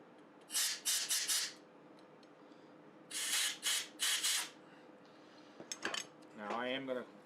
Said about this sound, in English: spray it down with just a little bit of brake parts cleaner just to get that excess penetrating oil off of there